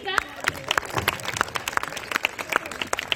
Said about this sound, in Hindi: तालियों से स्वागत कीजिएगा नितिन जी का।